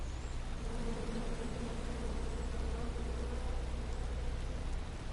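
Steady, dense swarm of bees buzzing throughout in the King's Quest video game, a continuous low droning hum with no pauses and no speech over it.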